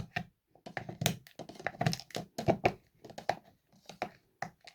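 Succinic acid tablets are crushed with a small hammer, giving a quick run of sharp taps and gritty cracks at close range, irregular in rhythm, with no talking.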